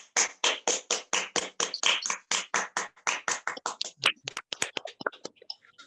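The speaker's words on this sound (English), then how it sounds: "Let's all give another hearty round of applause for the release." Audience at an official release event for a documentary film on the Makuiluangdi Festival 2019 clapping in a fast, even rhythm of sharp claps that quicken and thin out toward the end, with no talking.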